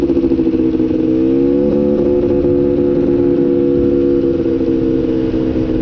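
Polaris Scrambler engine running hard during wheelies: a loud, steady, close droning roar with slight rises and dips in pitch, continuous throughout with no talking.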